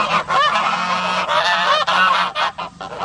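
Homestead geese honk loudly and continuously, several birds overlapping in a raucous nearby chorus with no talking.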